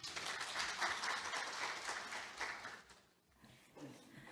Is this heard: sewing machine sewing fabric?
no